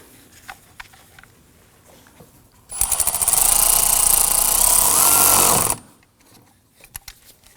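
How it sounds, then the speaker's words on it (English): A hose clamp on the air filter housing of a 2003-2014 Volvo XC90 is tightened with a loud, close three-second whirring burst, with scattered faint clicks and taps before and after. "Just going to tighten down our hose clamp here."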